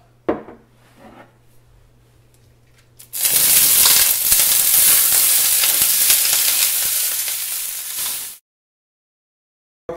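Fresh vegetables hit a hot pan with olive oil, salt and pepper, bursting into a loud, steady sizzle that holds for about five seconds before cutting off abruptly, after a few quiet clinks.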